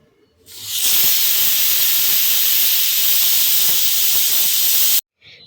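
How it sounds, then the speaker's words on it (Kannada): A pressure cooker vents a loud, continuous hiss of steam close by, starting abruptly and holding steady for about four seconds before cutting off sharply. "ಕುಕ್ಕರ್ನ ಮುಚ್ಚಿ 1 ವಿಷಲ್ ಕೂಗಿಸ್ಕೊತಾ ಇದ್ದೀನಿ"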